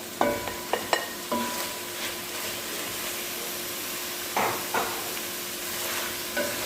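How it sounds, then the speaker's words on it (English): Pumpkin being stirred into seasoned rice with saltfish: a soft, steady sizzle with scraping spoon strokes and a few clinks against the pot, close and fairly quiet, with no talking. "Let's stir that in and allow it to soak up all that saltfish and seasoning."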